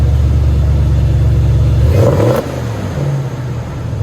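A Procharged RAM 1500 with a 5.7L HEMI V8 and Magnaflow glass packs rumbles loudly up close, then snaps into a sharp rev that rises and falls before dropping back to a deep idle burble.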